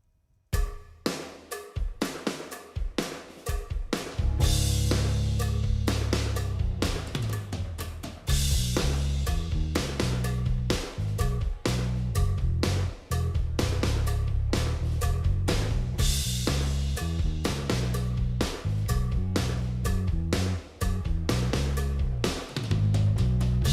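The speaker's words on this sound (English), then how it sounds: "I have removed everything except for the drums and the bass and the effects" Drums and bass of a driving rock song, loud and continuous, with pounding kick and snare hits over a steady bass line that shifts pitch between sections; no talking.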